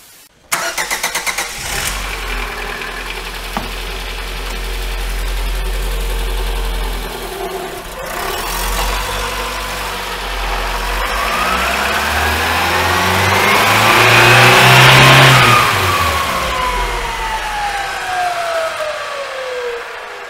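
Lada Largus engine with a GR5 manual gearbox, run up on a lift in a workshop: the engine starts, idles briefly, then revs steadily higher to a loud peak and winds back down, with gearbox whine rising and falling alongside.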